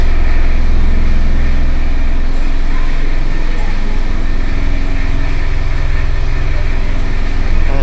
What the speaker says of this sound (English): it's probably not be able to hear me over the train